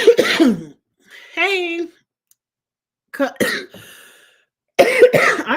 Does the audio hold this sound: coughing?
yes